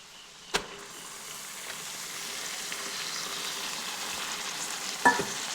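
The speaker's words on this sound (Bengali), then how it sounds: "তো এরপরে মাংসটি এখানে 2 মিনিট ভেজে নেব।" Chicken pieces fry in a pan with browned onion and whole spices, a low continuous sizzle building gradually, with two sharp knocks of a utensil near the start and end.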